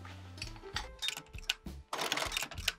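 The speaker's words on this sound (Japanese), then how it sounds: "続いて履き口の周りをミシン掛けしていきます。" A sewing machine stitches a leather shoe upper around the collar opening, running in short, clicking bursts separated by brief pauses.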